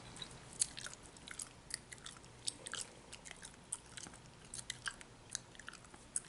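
Soft, close gum chewing with small wet clicks and smacks in an irregular rhythm, faint and intimate against a quiet background.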